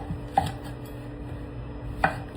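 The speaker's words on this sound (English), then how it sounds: "So now we're gonna cut up our zucchini, and I'm just gonna quarter it" A knife chops through zucchini on a board with two crisp, separate thuds about a second and a half apart. A quiet steady hum runs underneath and nobody speaks.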